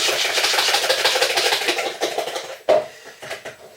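Egg custard tart filling with vanilla extract is mixed briskly in a bowl, making close, rapid scraping and clinking strokes that slow into a few separate knocks near the end.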